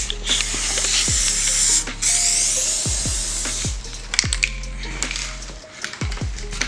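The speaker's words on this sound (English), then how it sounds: "Well, don't spray it like that." Aerosol spray paint hisses from a can onto car body lips of a Lexus IS300 in bursts, a long near hiss then shorter sprays broken by sharp clicks and taps, alone without talk.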